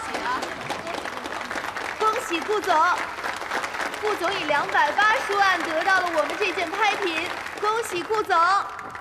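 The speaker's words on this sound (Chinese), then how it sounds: "来，我们大家掌声响起，送给我们888号贵宾。" Applause from an auction audience rises and holds steadily after a winning bid, with a pitched voice or music running over the crowd noise throughout.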